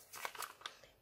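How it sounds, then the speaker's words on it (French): Scissors snip through the corner of a recycled paper envelope, giving a few short, crisp crunching cuts close by, with no talking. "Vous prenez une paire de ciseaux"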